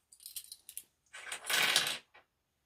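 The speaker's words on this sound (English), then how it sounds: "keep putting my scissors down." Metal sewing scissors are set down on a table during a sewing project, giving a few light metallic clinks followed by a longer rattling clatter, close and fairly quiet with no talking.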